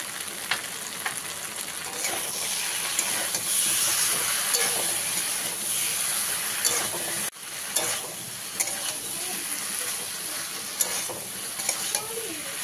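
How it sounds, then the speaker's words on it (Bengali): Mixed vegetables with green chillies fry in a pan for a fish and mango-powder sour dish, a steady broadband sizzle with stirring scrapes throughout and a brief dip midway, no voices. "সব সবজি আমি এইভাবে ভালোভাবে ভেজে নিয়েছি।"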